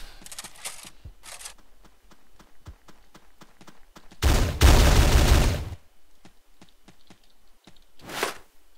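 Shotgun blasts in the top-down shooter Teleglitch: a few short sharp shots early, then one long, loud roaring burst mid-clip and a final crack near the end, over a ticking background with no voices.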